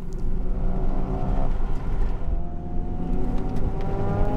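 Honda Civic Type R FK8 at full throttle on a GridLife Shenandoah track, its engine holding a loud, steady, sustained roar as revs climb through a turn, with no talk over it.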